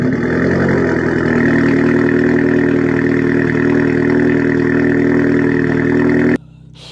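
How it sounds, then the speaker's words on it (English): A Volkswagen Golf GTI Edition 30 with a 6-speed DSG gearbox sits at a loud cold-start idle, its booming exhaust droning steadily and close before cutting off abruptly near the end. "it's a very, very loud, cold start, booming exhaust on this"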